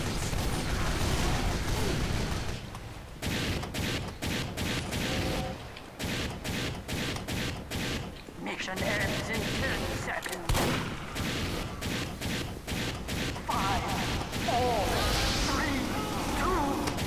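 Rapid bursts of gunfire in Team Fortress 2 crackle through a busy multiplayer firefight, with repeated shots and loud pops under near, excited player talk.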